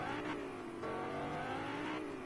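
Car engine revving in the Fortnite video game, a continuous mid-pitched roar with rising and falling throttle swells, steady and fairly loud throughout with no talking.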